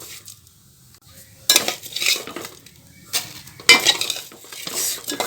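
Ghee-roasted vermicelli scraped from a pan onto a plate for Alappuzha-style upma, loud metal spoon scrapes and clinks in three separate bursts with quieter pauses between.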